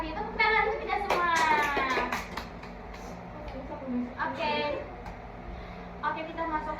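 Children clap together in a classroom session, a short burst of scattered hand claps as voices talk over and around the clapping.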